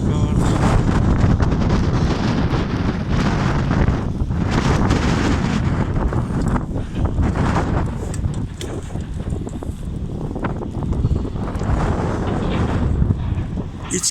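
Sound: wind blowing on the seaside

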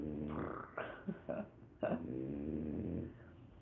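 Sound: dog making snuffling sounds

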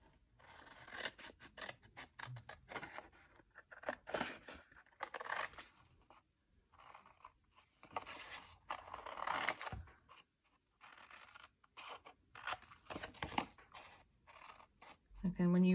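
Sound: scissors cutting out card

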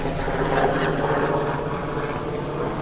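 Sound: helicopter flying overhead

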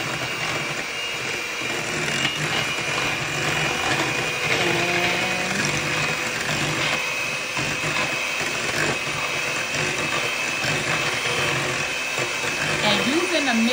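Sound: electric mixer mixing French toast batter

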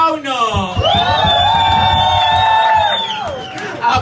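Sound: crowd applause and cheering

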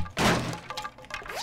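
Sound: weapon hitting wood in a zombie survival video game

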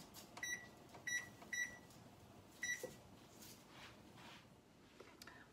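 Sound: kitchen timer beeping

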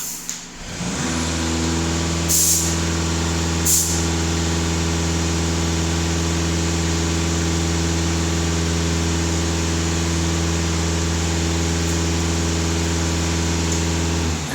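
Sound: Volkswagen Passat B8 diesel engine revving

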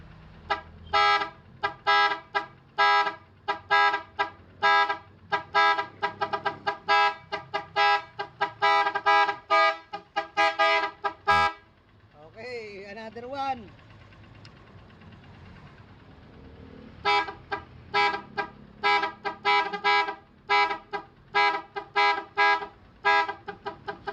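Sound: car horn with eight-tone interrupter

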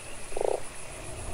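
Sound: frog croaking in the video game Fran Bow

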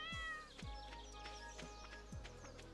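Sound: cat meowing in video game Stardew Valley

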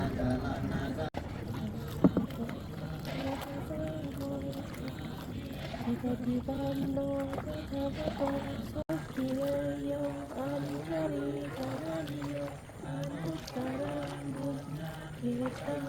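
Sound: boat carrying monks setting out on a lake

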